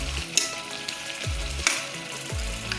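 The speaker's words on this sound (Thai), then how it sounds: "ผัดเผ็ด เนื้อหมูนะครับ" Pork sizzles in a hot pan while being stir-fried for a spicy northern Thai phat phet mu doi, a steady close crackle broken by a few scraping stirs and clanks, with no voices.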